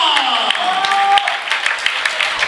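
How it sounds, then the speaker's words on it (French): Applause from a crowd at a youth tournament final between Tours and Béziers, honoring the Tours team's best player of the tournament: steady, dense clapping throughout, with a voice or tonal sound running underneath. "applaudissez l'équipe du Pôle Espoir du Tour, Loïc Nioche, meilleur joueur du tournoi."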